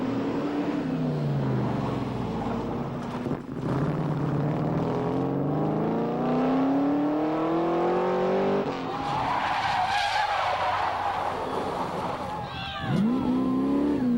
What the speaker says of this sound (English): But it's a noisy car